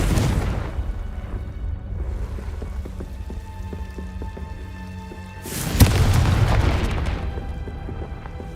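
In the Hogwarts Legacy video game, a Confringo spell goes off as a sudden fiery blast partway through, followed by a rumbling, crackling burst over a steady background patter, with no talking.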